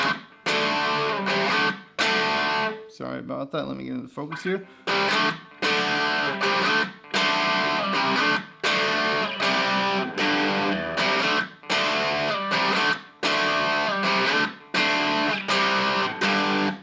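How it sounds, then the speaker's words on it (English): Distorted electric guitar power chords play a song's riff, strummed in a steady rhythm of repeated chords with short gaps between them. Someone speaks briefly partway through. "And then it goes into the distorted part."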